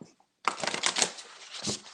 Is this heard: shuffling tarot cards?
yes